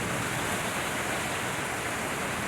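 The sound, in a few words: heavy rainstorm at night in Manaus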